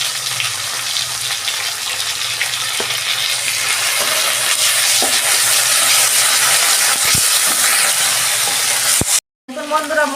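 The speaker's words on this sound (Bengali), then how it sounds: "আদা রসুনের পেস্ট দিচ্ছি 1 চামচ।" A spoonful of ginger-garlic paste frying in a pan for fish kalia, making a loud, steady sizzle with a few soft clinks, before a short silence and a brief burst of speech at the end.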